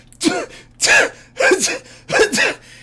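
Four sharp sneezes come one after another in a steady rhythm, each a loud, breathy burst close by.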